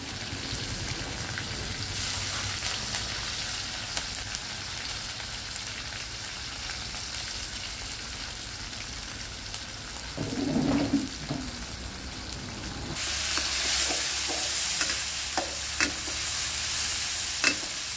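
Pounded spice paste fries in a pan for a pineapple-style fried tongue dish, giving a continuous sizzle that swells louder partway through, with stirring scrapes and faint watery sounds.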